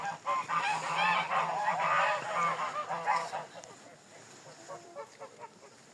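Loud, harsh honking from Muscovy ducks, several birds calling over one another, close by, fading to scattered honks toward the end.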